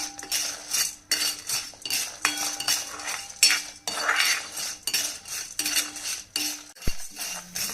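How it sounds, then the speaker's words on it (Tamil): Sliced okra stirred in a pan for a Tamil vathakozhambu, with a spoon scraping and clinking against the metal in repeated bursts and a faint sizzle underneath. "இந்த மாதிரி பொன்னிறமாக வர வரையிலும் வறுத்துக்கோங்க"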